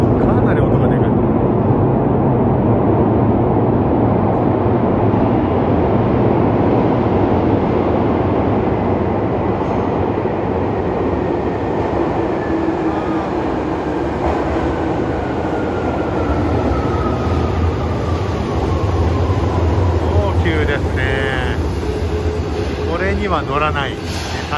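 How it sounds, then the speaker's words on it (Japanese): A Nagano Electric Railway train running through an underground section, a loud, continuous rumble and rushing roar with rising and falling whines, sustained close by throughout. "地下鉄らしい感じの雰囲気の音がするね"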